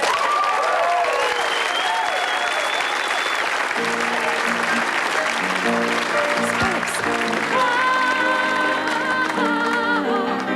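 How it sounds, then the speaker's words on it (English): Audience applause at a live comedy show, loud continuous clapping with cheers and whistles, joined partway through by upbeat music playing underneath. "so if yous could clap now"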